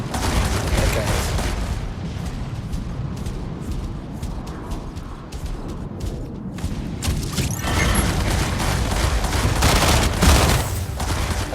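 Dense, continuous weapon fire rattles through a Mech Arena battle, overlapping bursts, booms and mechanical clanks stacking into a loud, unbroken barrage.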